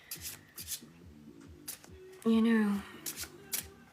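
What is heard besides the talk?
tarot cards being pulled from a deck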